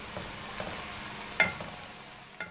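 Bay leaf and cumin sizzle as they hit onions that have started to turn pink in hot oil, a steady soft frying hiss broken by a few sharp stirring clinks near the middle and end.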